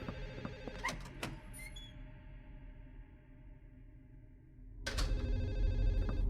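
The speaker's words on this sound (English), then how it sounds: "I can still hear the phone." A telephone rings indoors with bright, trilling bell bursts, an early cluster, a quieter lull with a sustained hum, then a louder ring returning near the end, heard alone without talk.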